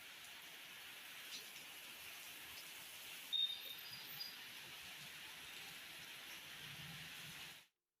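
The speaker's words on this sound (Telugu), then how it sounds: "ముషీరాబాద్ లో పలు చోట్ల భారీ వర్షాలు కురిశాయి" Heavy rain falls over Mushirabad in Hyderabad as a steady, even hiss of downpour, faint and continuous with one brief sharper knock partway through, and no voices.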